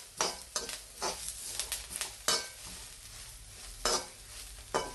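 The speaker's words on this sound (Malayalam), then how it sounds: "എല്ലാം കൂടെ നല്ലതുപോലെ ഇളക്കി തേങ്ങാക്കൊത്ത് കറിവേപ്പില എല്ലാം കൂടെ" A spoon stirs ivy gourd fry with coconut pieces and curry leaves in a pan, several sharp scraping strokes at irregular intervals over a faint background sizzle, close and fairly quiet.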